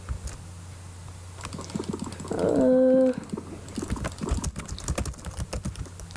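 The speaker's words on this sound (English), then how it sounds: "probably hear my keys." Computer keyboard keys clatter in rapid, irregular bursts of typing close to the microphone, briefly broken by a short spoken word and a tonal burst in the middle.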